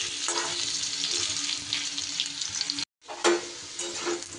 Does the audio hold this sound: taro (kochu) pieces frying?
yes